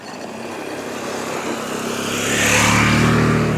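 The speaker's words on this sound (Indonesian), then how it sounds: "Ada yang bawa motor teman-teman" A motorcycle engine drones and builds louder as it rides across the Cisomang bridge, the roar swelling steadily toward the end, with no voices.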